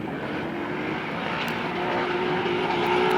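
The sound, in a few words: 2JZ VVTI S14 drift car engine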